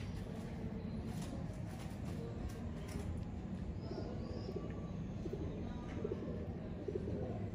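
Royal Teddy pigeons coo softly in a loft, low throaty cooing under a steady background hum with a few faint chirps, fairly distant and quiet, no talk over it.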